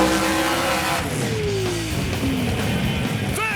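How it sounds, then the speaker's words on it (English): A 1983 Chevy S10 roars through a loud, sustained burnout at a pass-time drag event, engine revving high under constant tire noise, with a squeal sweeping upward near the end. "That's how you do a burnout."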